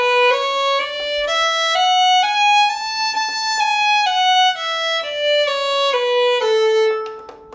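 A bowed violin line moving smoothly through connected notes in groups of four under one slurred bow, each phrase even in tone with no gaps, played alone.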